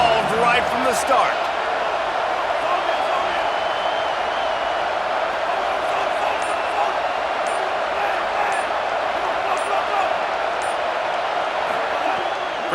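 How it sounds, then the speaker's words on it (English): Home crowd in the EA Sports College Football 27 video game roars steadily throughout, a dense, continuous wall of stadium cheering at constant loudness, with a commentator's voice running over it. "this home crowd getting involved right from the start"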